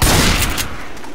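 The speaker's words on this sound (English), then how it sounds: "Watch where you're shooting!" Gunfire in the zombie shooter Left 4 Dead 2, a loud rapid cluster of shots over about half a second, then a quick fade.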